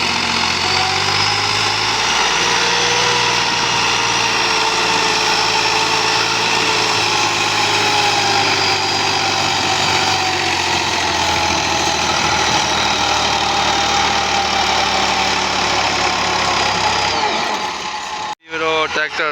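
Tractor pulling a loaded trolley with its engine running under strain, a loud, continuous diesel drone with a steady low hum, then cutting off near the end, with voices talking over it at times.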